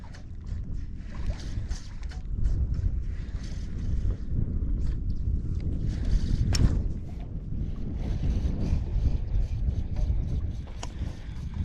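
Gusty wind buffets the microphone on open water during kayak fishing, with low rumbling bursts, light splashing and faint boat and water noise throughout.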